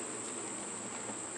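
Faint, steady buzzing drone of honeybees humming continuously in the air at a farm during the honey harvest, with no other sounds or voices.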